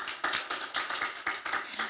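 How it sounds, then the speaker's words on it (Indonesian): Audience in an Indonesian church service clapping hands, a steady run of sharp claps with rhythmic peaks, fairly close and moderately loud, no talking over it. "Boleh tepuk tangan?"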